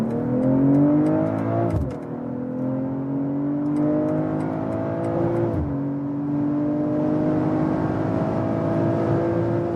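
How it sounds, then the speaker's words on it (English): BMW M340i in Sport Plus with S shifting mode pulling hard up the gears on the German Autobahn, a loud, rising engine note broken by two quick upshifts, continuous and close with no talk. "we'll get on to the German Autobahn for the first acceleration"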